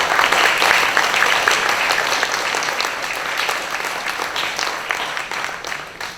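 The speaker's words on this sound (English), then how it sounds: "Let's give a big round of applause to our students here at Jones Elementary." Sustained applause from a crowd at Jones Elementary School, loud and steady at first, then tapering slightly toward the end, with no talking.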